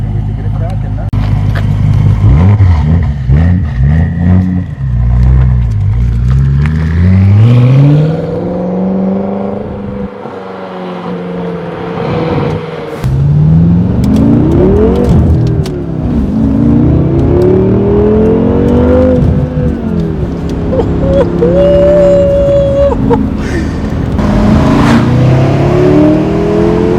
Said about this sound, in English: It's a very deep sounding exhaust note.